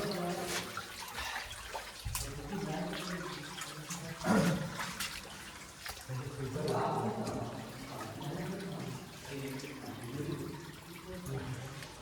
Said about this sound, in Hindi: ये पानी निकल रहा है देखो